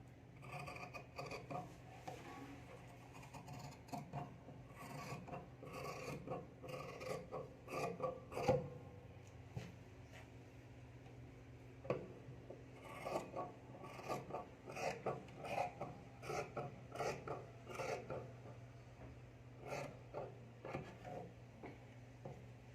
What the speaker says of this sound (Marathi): चला तर आता आपण कटिंग करून घेऊया